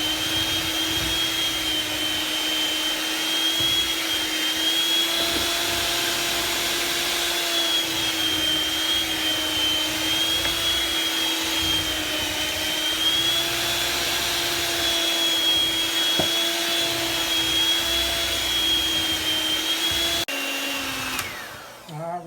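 An electric mixer steadily whirs as buttermilk is blended into tea cake batter, a loud, constant motor hum with a high whine that holds for about twenty seconds before cutting off.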